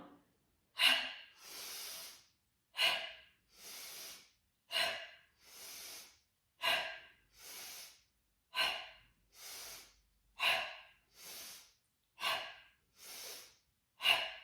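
Forceful rhythmic breathing during a yoga core sequence: about a dozen sharp nasal exhales, each followed by an inhale, evenly paced and close, with no talking.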